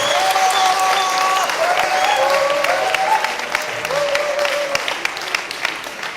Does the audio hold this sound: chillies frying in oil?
no